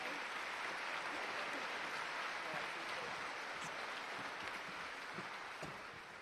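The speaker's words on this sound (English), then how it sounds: "if we could give our platform a round of applause" Conference audience at the Labour Party Conference in Liverpool applauding the platform, a steady, distant wash of clapping throughout that fades slightly at the end.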